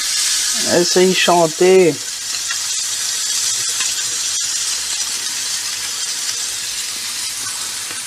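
Duck breast sizzling in a pan in its own rendered fat, no oil added, a steady bright frying hiss throughout, with a brief stretch of singing over it near the start.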